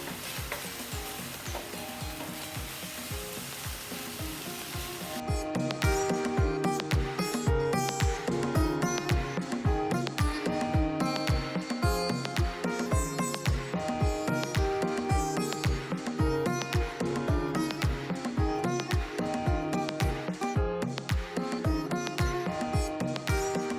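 Beef stir-frying on high heat in a skillet gives a loud, steady sizzle, broken by regular scraping and tossing as the meat is kept moving, with no talking.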